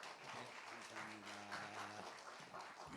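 Church congregation at a revival meeting applauding together, a steady dense wash of clapping lasting about three seconds, with some voices and tonal hum mixed underneath.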